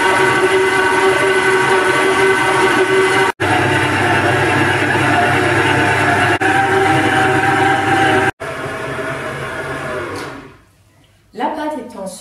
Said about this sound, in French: Je vais maintenant pétrir le tout au robot